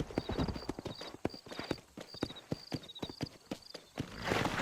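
Horse hooves clip-clop in a quick, even rhythm in the Red Dead Redemption video game, up close and fairly loud, with a short burst of noise at the end.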